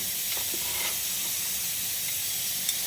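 Urad dal and chana dal frying in Vijayawada-brand oil for beetroot coconut curry give a steady, soft sizzling hiss with a few faint crackles, heard alone.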